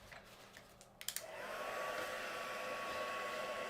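A few quick clicks, then a hair dryer switches on and roars steadily at close range, with a faint whine, as it dries a mixed media artwork.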